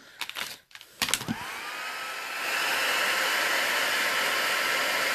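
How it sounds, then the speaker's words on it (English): Heat tool blowing hot air to heat set mixed media paint on a small canvas, a steady loud whoosh that rises and settles into a continuous roar after a few brief handling clicks and bumps. "So we're going to heat set this now."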